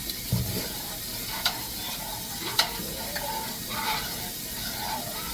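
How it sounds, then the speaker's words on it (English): A spoon stirs food sizzling in a pan, a soft steady frying hiss broken by a few light scraping clicks, quiet and close with no talk. "You stir it up"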